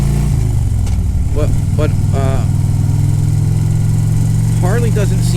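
A Harley-Davidson touring motorcycle engine rumbles at a steady low idle close by, running continuously under a man's speech.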